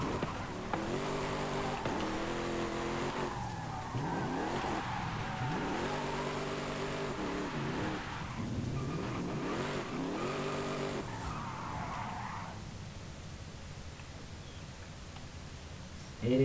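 A Dodge Magnum SRT8 in the Forza Horizon 5 racing game revs hard through repeated rising gear pulls, with tire squeal and engine roar dominating before fading near the end.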